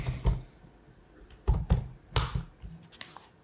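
Several sharp key taps on a computer keyboard while a question is entered into a support live chat, coming in short irregular bursts of clicks with pauses between, close and fairly quiet, with no voices.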